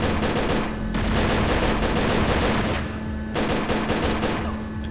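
Continuous rapid firing of the rig weapon in Tomb Raider: Angel of Darkness, a loud, dense, sustained burst with two short lulls, steady and close throughout.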